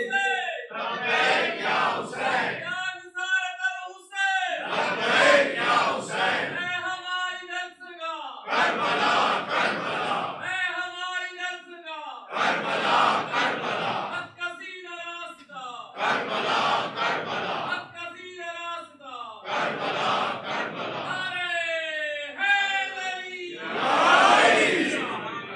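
A large crowd at a Shia majlis chants a religious slogan in loud, rhythmic call-and-response bursts, roughly a dozen shouted phrases in succession, with a leading voice alternating with the massed response.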